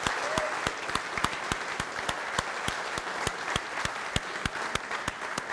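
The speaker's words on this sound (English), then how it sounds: "Give these guys a huge round of applause." Banquet audience at a Rotary Club district installation applauding the assistant governors, sustained steady clapping from a large room with a few louder individual claps standing out, moderately distant.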